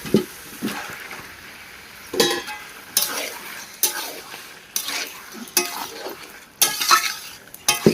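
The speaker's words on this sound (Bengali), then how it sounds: "মশলার সঙ্গে মাংস প্রায় 20 মিনিট ধরে কষাচ্ছি" Chicken cooked with spices, onion and goat fat is stirred in a pan, a soft constant sizzle broken by repeated louder scraping strokes of a spoon at a steady rhythm, with no speech.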